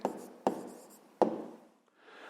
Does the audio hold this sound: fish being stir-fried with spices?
no